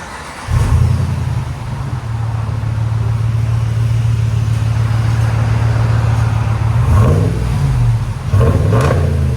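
A 2022 RAM Eclipse Edition pickup with a 5.7L V8 and a new aftermarket muffler holds a loud, steady, close exhaust drone, then climbs through a couple of quick revs near the end.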